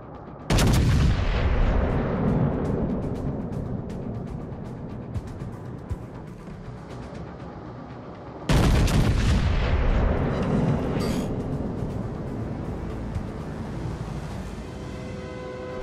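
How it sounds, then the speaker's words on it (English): Warship main guns firing in the naval combat game World of Warships: Legends, two heavy booming salvos several seconds apart, each a loud blast followed by a long rumbling decay. "Concentrate fire on the enemy warship to sink them!"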